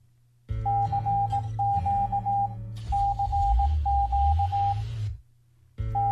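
Finland's emergency alert alarm tone plays as a broadcast signal: bursts of repeating beeps over a sustained droning chord in two long runs, with a short gap between them, loud and with no one speaking.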